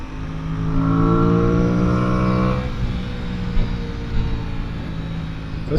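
An Aprilia Tuono 660 motorcycle accelerates hard, its engine note climbing steadily through the revs before easing off to a rushing ride noise with wind, loud and close.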